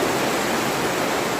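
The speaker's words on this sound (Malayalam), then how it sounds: "മഴ നല്ലവണ്ണം പെയ്യുന്നുണ്ട്." Heavy rain pours down onto a flooded pond area, a dense, loud, unbroken hiss of falling water that stays steady throughout.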